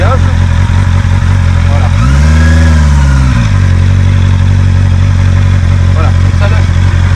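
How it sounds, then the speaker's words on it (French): A 2024 Honda CB650R with E-clutch idles steadily and close by, with a brief rise and clunk as it drops into first gear; someone speaks briefly over the engine. "je mets la moto en route. Vous allez l'entendre, je vais passer la première."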